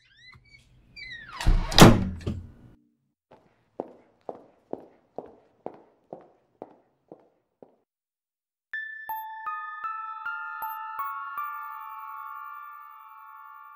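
A door slams shut with a single heavy, close thud, followed by a quick run of footsteps and then a bright electronic chiming tone.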